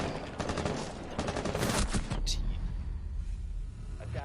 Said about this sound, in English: And then we got Thompson, loves his shotguns, using that.